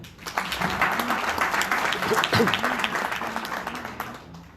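Guests at a medical book presentation clap for a few seconds. The applause rises quickly, holds, then tapers off, and a voice talks over it.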